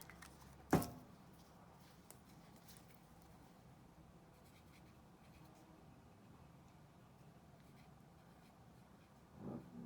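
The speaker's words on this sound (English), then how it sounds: "I'm going to take my Sharpie and my tape and I'm going to write what was planted." A Sharpie marker writes on a strip of tape with soft, faint scratchy strokes in a quiet room, along with a sharp tap near the start and a small rustle at the end.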